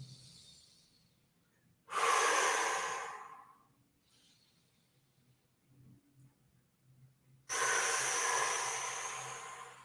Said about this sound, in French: J'inspire, je gonfle le ventre, je souffle